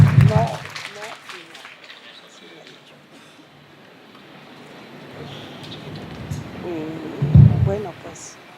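Audience applause for a speaker at a university lecture on tutoring in higher education, a soft rain-like patter of clapping swelling and fading, with a speaking voice at the start and end.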